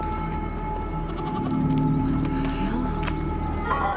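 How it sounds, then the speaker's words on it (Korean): Goat bleats in a quiet, empty street setting, a few drawn-out wavering cries at moderate distance over a steady low background hum. "이 염소는 또 뭐야?"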